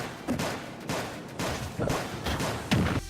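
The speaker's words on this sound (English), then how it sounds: "He has a dinky gun" Joker's pistol firing in Super Smash Bros. Ultimate, a string of sharp repeated shots at a steady rhythm, loud and close with busy game effects around them.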